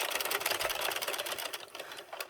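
A hand-cranked knitting machine knitting a plain shawl, giving a steady, busy mechanical clatter and whir with a fast rhythm, close and moderately quiet, with no voices.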